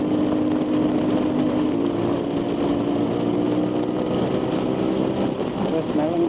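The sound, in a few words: CFMOTO 450 MT motorcycle engine while riding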